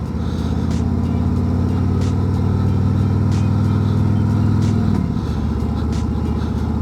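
Steady, loud engine drone of a 2024 Harley-Davidson Road Glide 3 motorcycle while riding, a low rumbling tone that holds evenly and shifts pitch near the end as if changing gear, with wind noise throughout and no talking.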